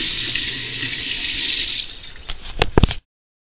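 During a home inspection, water runs from a tap in a steady hiss that softens partway through. A few clunks follow before it cuts off abruptly.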